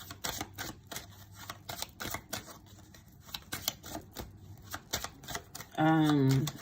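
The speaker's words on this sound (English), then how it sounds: "I'm shuffling these cards" Tarot cards are shuffled by hand in a series of quick, crisp riffling and tapping bursts at close range, and a voice briefly speaks near the end.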